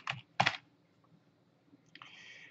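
Keystrokes on a computer keyboard, a couple of distinct clicks near the start, then quiet, then a brief higher burst, heard close and alone.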